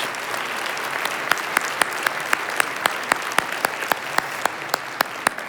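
An audience claps at a city's State of the City address, steady crowd applause with sharp individual claps popping out near the listener, continuing unbroken for several seconds.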